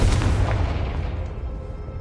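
A Confringo blasting spell explodes in Hogwarts Legacy, one loud, close boom with a deep rumbling body that decays over two seconds.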